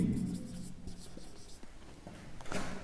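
Handwriting examples during a parts-of-speech lesson, with soft scratching pen or marker strokes in short bursts, fairly close and quiet, with faint breathy sounds in between.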